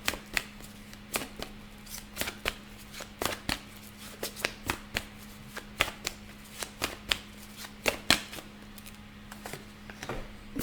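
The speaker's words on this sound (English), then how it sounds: "I was shuffling this deck." Cards being shuffled up close: a quick series of crisp riffling snaps and flicks, irregular in rhythm, over a faint low hum.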